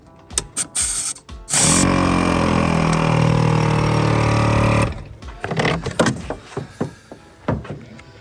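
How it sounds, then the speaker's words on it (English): An air compressor inflating off-road tires runs loud and steady for about three seconds, with a droning harmonic hum set between close clanks and handling noises. "I'm going to first plug into my compressor."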